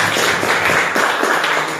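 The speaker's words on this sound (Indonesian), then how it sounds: "Kita tepuk tangan." A classroom of students claps hands together in a dense, brief burst of rapid overlapping claps, loud and close throughout.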